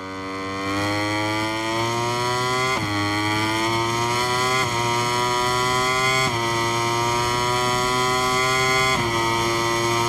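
A motorcycle engine in The Crew Motorfest revs loud and close, its pitch climbing steadily and then dropping sharply at each gear shift every couple of seconds, with no voices.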